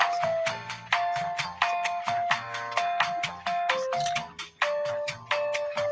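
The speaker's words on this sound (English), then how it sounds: "I think of this as phone tree music." A bright, melodic electronic hold tune plays on a phone line's automated menu, with bell-like chiming notes over a steady bouncing bass pattern, continuous and fairly loud, with no voices.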